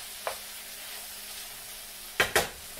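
Empanada filling seasoned with sazon cooks in a pan over raised heat, giving a faint steady sizzle broken by a light scrape near the start and two sharper stirring scrapes near the end.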